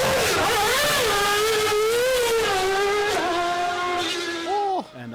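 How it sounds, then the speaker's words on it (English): A McLaren MP4-23 Formula One car screams around the Bathurst mountain circuit, its high engine note rising and falling through gear changes before cutting off abruptly near the end. "the first man to bring the monstrous scream of an F1 racer to"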